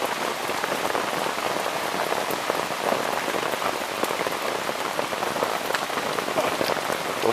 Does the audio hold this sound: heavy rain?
yes